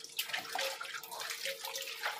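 Water splashing and running as something is rinsed in washing with quicklime water, a close, uneven wash of sloshing and trickling with no voices.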